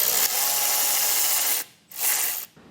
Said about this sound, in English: we need to get this removed, and there's going to be a 10mm socket that's right here